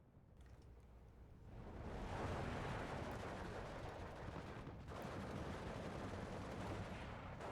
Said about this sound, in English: 81mm mortars doing a lot of damage now.